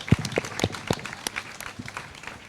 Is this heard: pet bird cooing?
no